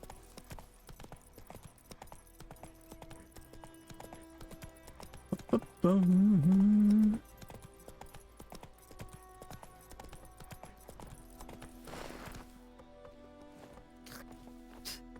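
Hooves of the horse Roach clip-clopping in a video game, a rapid running gait throughout, with a loud tonal burst partway through and background game sounds.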